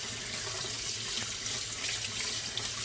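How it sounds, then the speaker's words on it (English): Tap water runs steadily into a sink as canned carrots are rinsed in a sieve, a continuous close splashing hiss with no talking. "rinse it out, and then let it drain the water"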